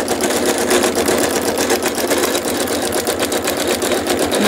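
A sewing machine stitches continuously and loudly up close, giving a fast, even whirring hum with a steady rapid pulse and no talking.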